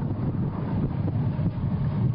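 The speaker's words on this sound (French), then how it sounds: "le vent fait son apparition" Steady wind buffets and rumbles loudly against the microphone on the run course of the 2011 Ironman Hawaii triathlon, with no voices heard.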